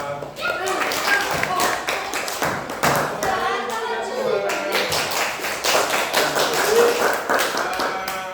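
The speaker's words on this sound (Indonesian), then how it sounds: "Tepuk tangan untuk kelompok 4." A classroom applauds a student group, with a burst of brisk, dense hand clapping that is loud and close and carries on steadily for several seconds, mixed with scattered voices.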